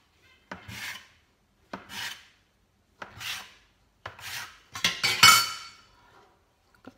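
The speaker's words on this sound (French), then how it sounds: "je vais le couper en 8 morceaux" Knife or scraper strokes cut homemade taco dough into eight pieces, five or six short scraping rasps on a board with brief pauses between them, close and fairly quiet.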